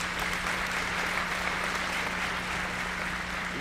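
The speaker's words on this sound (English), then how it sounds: "give yourselves applause for helping them" An audience at a show choir holiday concert claps in a steady, dense wash of applause that fills the hall evenly from start to finish, with no break.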